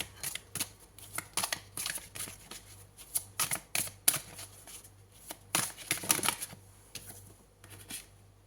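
Tarot cards are shuffled and drawn in a quick series of crisp, close riffling and snapping bursts, with no talk.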